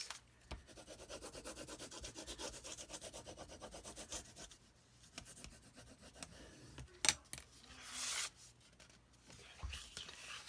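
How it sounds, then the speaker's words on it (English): A bone folder burnishes a protected seam on a handmade paper travel folio album with an expandable spine, giving a soft, close, continuous rubbing scrape with a sharper tap and a brief louder swipe near the end. "now I'm going to burnish this."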